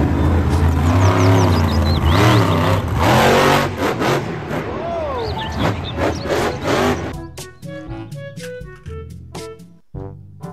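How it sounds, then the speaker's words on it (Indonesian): Toy monster truck engine noise: loud, continuous revving and roaring that rises and falls, mixed with music, then breaks into choppy bursts toward the end. "Mobil truk monster."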